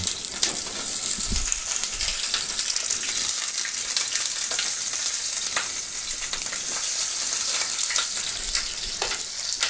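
Small quails sizzle steadily as they fry and brown in a pan, a continuous close crackle with scattered pops and spatters and occasional soft stirring bumps, with no voices.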